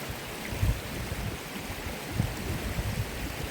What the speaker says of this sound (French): Cette petite rivière là, c'est splendide.